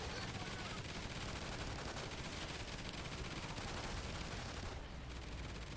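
Sustained automatic gunfire from a mounted turret in a cooperative Extinction game, a dense loud unbroken rattle of rapid shots lasting throughout with no pauses.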